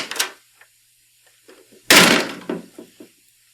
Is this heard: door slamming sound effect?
yes